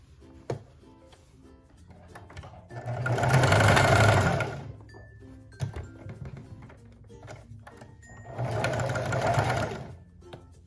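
Sewing machine stitching the bodice of a mini dress runs in two loud bursts of a few seconds each, separated by quieter handling clicks and thumps.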